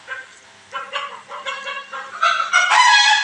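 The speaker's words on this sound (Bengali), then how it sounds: "অনেক সুন্দর অনেকগুলো মুরগি" Several hens on a rooftop give a run of throaty clucks and squawks, rising into louder, excited calling toward the end, close by and with no voices over them.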